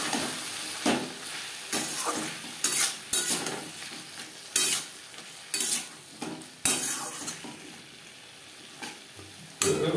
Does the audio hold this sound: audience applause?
no